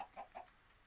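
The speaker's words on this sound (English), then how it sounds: "where's my chickens? Come on, chickens." Chickens give two soft, faint clucks close together, quiet and brief against low background noise.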